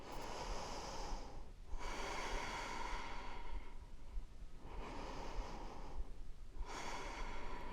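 Slow, deep breaths during a yoga exercise, two long airy inhale-exhale cycles with brief pauses between, close and soft, no speech.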